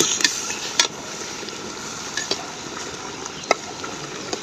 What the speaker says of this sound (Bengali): সো গাইস আমরা এখন মাংস কষানোর পর্যায়ে এসে পড়েছি।